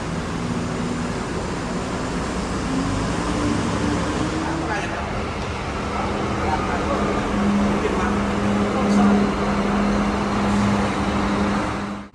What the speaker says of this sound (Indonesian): Bis yang kita naikin akhirnya masuk ke tempat keberangkatan.